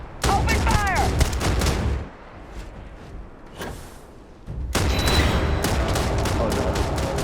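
Heavy gunfire in the sci-fi game Starfield: dense, loud volleys of shots that ease off into a quieter lull midway, then erupt again into sustained rapid fire.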